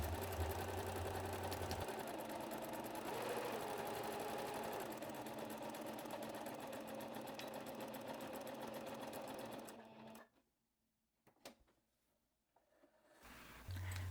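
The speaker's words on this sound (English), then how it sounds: "I go back to my sewing machine to just tag it on each shoulder seam" A sewing machine runs continuously stitching fabric along a neckline shoulder seam, a steady close mechanical whirr for about ten seconds before stopping, followed by quiet handling sounds.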